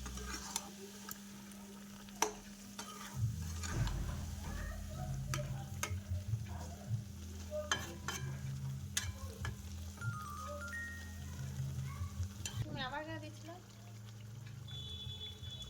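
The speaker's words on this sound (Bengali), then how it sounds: "এবার ভালো করে নাড়াচাড়া করে নেব।" Ground spice paste and its soaking water being stirred into a chicken curry with potatoes in a pan, with a steady sizzle and scraping of the spoon under a low running hum, while someone talks over it.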